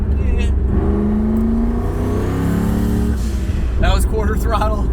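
A 1000 HP turbocharged, air-cooled LS1 Trans Am engine, tuned on methanol injection, accelerates with a loud, steady drone and rising whine, close and continuous, as a voice speaks over the end.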